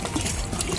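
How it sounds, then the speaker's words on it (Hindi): Water poured from a container into a cooking pot to boil Maggi noodles, a short steady splashing trickle heard close up with no voices over it. "इसमें डाल देते हैं पानी"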